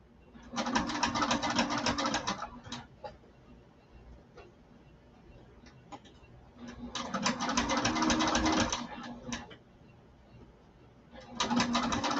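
A sewing machine stitches fabric in bursts, its rapid needle chatter running for a couple of seconds, pausing, then resuming twice, close and moderately loud, with faint handling noises between runs.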